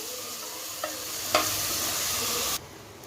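Tomato, onion and garlic sautéing together in a pan, a loud continuous sizzle with a couple of utensil clinks, cutting off abruptly near the end; nobody talks.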